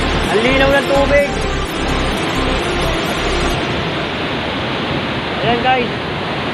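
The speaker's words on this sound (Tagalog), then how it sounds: "Ayan guys, yung unang talon." Makibato Falls in Dingalan, Aurora pours with a steady, close rushing roar that fills the whole stretch, with a few brief voices calling out over the water.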